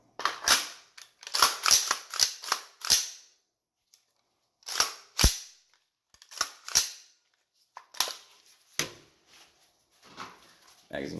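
Magpul PMAG GenM3 rifle magazines are handled, giving bursts of sharp, close plastic clicks and snaps in quick clusters, separated by short silent pauses.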